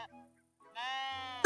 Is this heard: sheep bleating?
yes